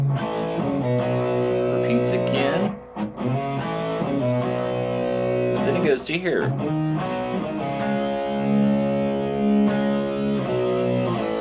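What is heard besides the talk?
distorted electric guitar playing riff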